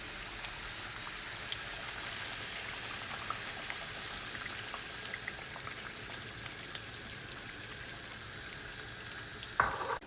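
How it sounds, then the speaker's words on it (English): Pork carnitas cooking in grease and milk at a rolling boil, a dense, steady sizzle and bubbling crackle close up, continuous throughout with no talking. "you want the grease and the milk and everything, you want it to look like just a rolling boil"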